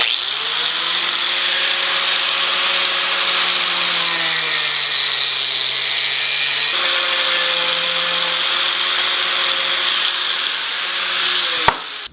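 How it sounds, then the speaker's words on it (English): An angle grinder cuts through a braided radiator hose, a loud steady whine with a sustained harsh abrasive hiss that dips briefly midway and runs for several seconds before cutting off abruptly. "grab an angle grinder, put on a bench grinder, and cut it away"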